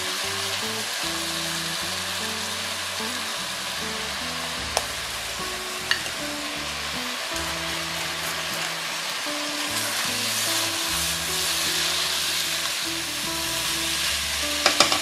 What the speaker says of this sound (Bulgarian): Сега ще запържим червен пепер за 10 секунди